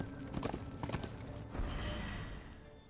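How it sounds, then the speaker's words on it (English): A horse's hooves clip-clop in the video game Darksiders II. A quick run of rhythmic hoofbeats is followed by a longer, swelling equine sound, moderately quiet and with no talk over it. "Horsey."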